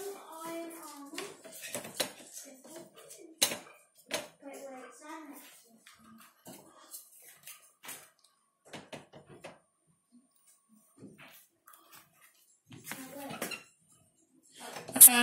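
Cups, mugs and dishes being loaded into a dishwasher, with scattered close clinks, knocks and rattles of crockery spread through the clip while a person talks over and between them.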